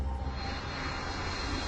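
Aircraft engines roar steadily at Atlanta International Airport, a loud, continuous jet rumble with a broad hiss that holds at an even level throughout, with no voices.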